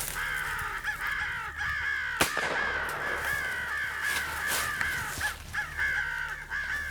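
Crows caw repeatedly throughout a winter crow hunt on a wildlife management area, harsh calls from several birds overlapping in an irregular rhythm, some near and loud, others farther off, with one sharp bang-like burst early on.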